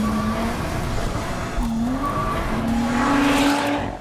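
Lotus Exige S on a race track in race mode, engine note climbing and dropping through gears with tyre squeal and skidding, loud and close, no voices.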